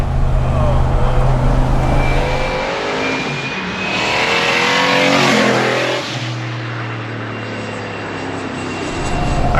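A 1993 Ford Mustang Turbo cruising on the road at about 60 mph, its steady engine drone and road noise loud and continuous, rising into a brief swell of louder rushing noise midway before settling back.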